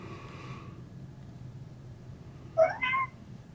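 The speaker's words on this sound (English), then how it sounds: "Oh, there's the cat." A house cat gives a short meow near the end, two quick rising calls close by, after a low background hum and a faint voice early on.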